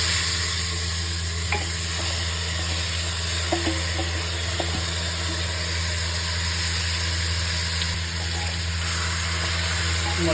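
Mutton pieces coated with turmeric and chilli powder sizzle in oil inside a pressure cooker, a dense continuous frying hiss with occasional scrapes of stirring over a steady low hum.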